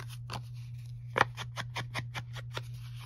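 Scissors snip through paper along black lines in a rhythmic run of about ten quick cuts, close and fairly quiet over a steady low hum, with no talking.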